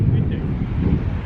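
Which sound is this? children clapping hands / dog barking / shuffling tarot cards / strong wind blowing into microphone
strong wind blowing into microphone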